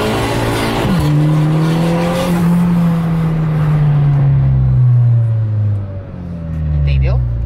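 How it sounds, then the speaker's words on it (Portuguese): Falken tires on a turbocharged Volkswagen Jetta squeal in long, loud, sustained howls as the car slides, with engine noise underneath and a shift in pitch near the end. "faz um barulho de pneu cantando"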